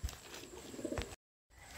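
A pigeon coos close by at home, with soft repeated low calls over room noise for about a second before the sound cuts out briefly.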